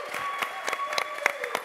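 A church congregation claps in a brief burst of scattered, uneven hand claps, moderately faint, with a sustained tone ringing beneath.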